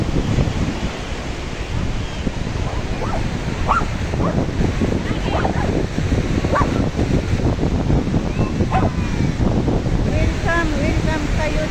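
A dog on the beach at San Juan, La Union barks a few times amid steady wind and crashing surf, while people talk nearby.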